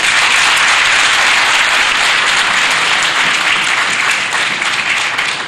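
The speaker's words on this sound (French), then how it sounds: "Un mathématicien que nous avons l'honneur d'accueillir et qu'il faudra applaudir parce que c'est un médaille Fields." An audience applauds a Fields Medal–winning mathematician, Cédric Villani, with steady, loud, dense clapping that fills the whole stretch and eases slightly near the end.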